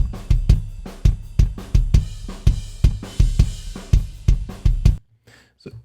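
A drum kit plays a steady groove as picked up by the outer and inner kick drum mics together, with regular booming kick hits and a bright cymbal wash, then stopping abruptly into near silence.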